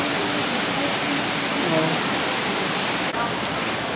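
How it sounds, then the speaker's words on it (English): Rushing waterfall heard from nearby, a loud, steady broadband roar filling the whole clip, with a brief spoken exclamation over it. "The waterfall is like right in between there."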